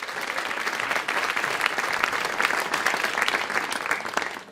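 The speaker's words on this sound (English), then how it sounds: "Let's have a round of applause for our sponsors" Live theater audience applauding sponsors at a public radio show, a sustained, fairly loud wash of many hands clapping throughout with no talk on top.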